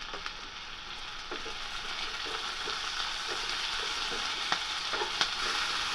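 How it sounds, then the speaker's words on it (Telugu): Chopped tomatoes and beans fry in a pan with a steady, soft sizzle and occasional faint scraping taps from stirring, and no voices are heard. "ఇందులో మనం కట్ చేసి పెట్టుకున్న టమాటాను అందులో వేసుకొని కలుపుకోవాలి."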